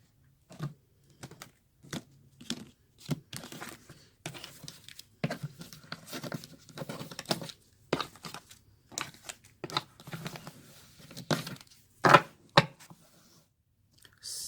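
Tarot cards shuffling by hand in a series of brisk riffling and flicking bursts, close and crisp, with short pauses between handfuls and no talk.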